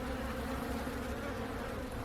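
A large bee flies close by outdoors, giving a steady, continuous buzzing drone with no voices.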